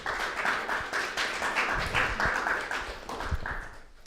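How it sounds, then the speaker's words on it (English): Applause and clapping for high school students who made a commercial-style film, a dense steady patter that carries through the whole stretch at moderate loudness. "Let's give them a round of applause."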